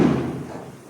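A single dull thud as a cooking vessel is placed down for making old-style jaggery payasam, close and fairly loud, fading quickly afterward.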